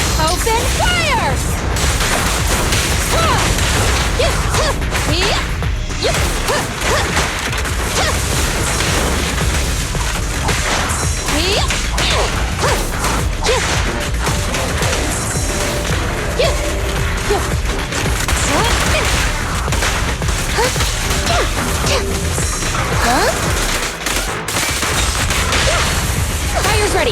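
Dense bursts of gunfire, booms and crashing impacts from a Zenless Zone Zero battle run almost without pause and stay loud throughout, with voices calling out over the fighting.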